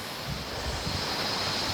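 A waterfall in Thailand runs with a strong flow after two weeks of rain, giving a steady, dense rush of falling water that holds even and close throughout, with no voices over it.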